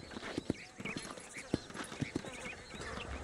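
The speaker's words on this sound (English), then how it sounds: "These are fine horses." Horses from the video game Red Dead Redemption gallop with a steady drumming of hoofbeats, several louder thuds landing near the listener and a faint whinny rising at moments above the running herd.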